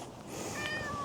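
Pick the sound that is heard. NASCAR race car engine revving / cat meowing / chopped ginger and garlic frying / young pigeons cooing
cat meowing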